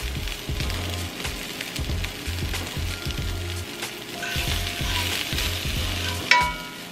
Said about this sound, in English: what I like to do with these potatoes after cooking them in the microwave is sauteing them because it's quicker